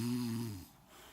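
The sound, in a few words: bear snoring imitated by storyteller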